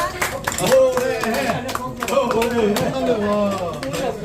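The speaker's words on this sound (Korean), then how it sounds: "와, 박수." Members of a hiking club at a New Year gathering clap briefly and unevenly while people talk over them, the scattered clapping close and mixed with speech.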